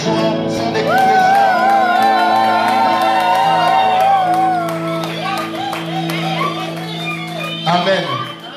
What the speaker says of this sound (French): poussons des cris de joie, poussons des cris de joie